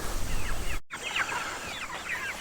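Broiler chickens about four weeks old cluck and chirp continuously inside a pasture box on a farm, close and moderately loud, with a brief dropout in the middle and no talk.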